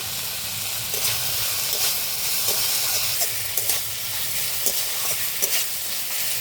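Water lily stems and prawns cook in a garlic tempering with a steady, loud hissing sizzle. Light spatula scrapes and taps come through intermittently, close up and with no talking.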